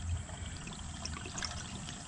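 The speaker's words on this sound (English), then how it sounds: "I'm going to let the antifreeze drain out of the system" Antifreeze drains out of a travel trailer's water system while it is being winterized, a short steady trickle and gurgle of liquid at moderate volume, close by, with no voices.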